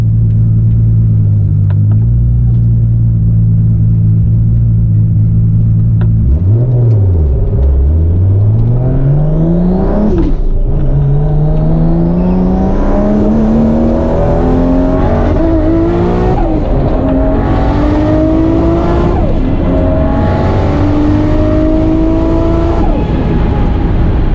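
A Toyota Supra drag races a 1300-horsepower Mustang, engines roaring loud and close as the car launches, rising through gears with repeated revving climbs and shifts over a heavy constant rumble.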